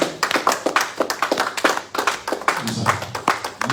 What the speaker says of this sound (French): Voilà, nous acclamons.